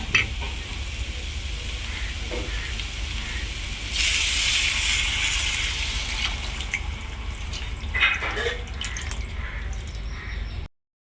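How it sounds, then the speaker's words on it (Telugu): A pan of meal maker and potato kurma sizzles and is stirred, then water is poured in with a louder rushing splash lasting about two seconds before the bubbling sizzle settles back. "నెక్స్ట్ కొంచెం వాటర్ వేసుకుందాం."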